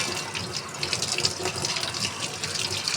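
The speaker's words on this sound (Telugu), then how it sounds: "ఇప్పుడు మనం వాటర్లో కడుక్కుందాం" Silver anklets are rinsed in water, with a steady splashing, running-water wash and small sloshing bursts close by for a few seconds and no voices.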